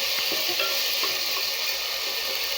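Ginger garlic paste sautés in a hot pan while cooking coconut milk rice, giving a steady, close, hissing sizzle throughout, with light stirring scrapes and taps scattered over it and no voices.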